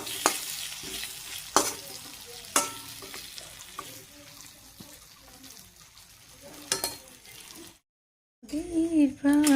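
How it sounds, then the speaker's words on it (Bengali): Spine gourd (kakrol) frying in a pan at home: a continuous sizzle with sharp clatters of a utensil stirring, a short silence near the end, then a voice speaking. "এখন এই যে কাঁকরোলটা ভাজা করব, মাংসের আলুটাও ভাজা বসিয়ে দিই"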